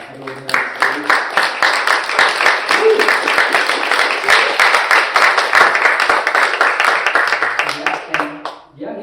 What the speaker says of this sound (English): If we could give a round of applause for this, for everyone here on stage